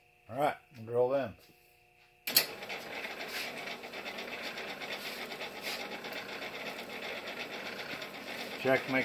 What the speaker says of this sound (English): Alright, drill them.